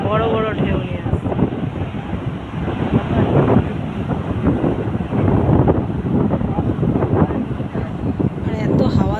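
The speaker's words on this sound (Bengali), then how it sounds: "এত হাওয়া দিচ্ছে, এত মানে হাওয়ার আওয়াজটা মানে শো শো করে আওয়াজ হচ্ছে" Strong sea wind roars and buffets on a beach at Digha, gusting in loud, continuous whooshes with surf rumbling underneath throughout.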